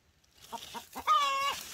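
A laying hen clucks close by, a few soft short clucks followed by a louder drawn-out squawking cackle.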